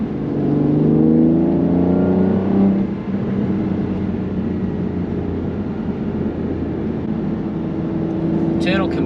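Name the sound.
V12 supercar engine revving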